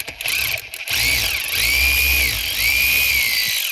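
A DeWalt power drill drives T20 screws in a Ford Fiesta ST180 during a pollen filter swap, giving a few short whirring bursts followed by two longer, steady, close-up runs with no talk.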